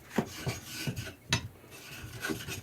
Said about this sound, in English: This is just a 400 grit diamond plate